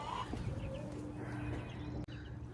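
Chickens cluck near a coop on a homestead after a massive flood, with short, scattered calls over a steady, close background hum.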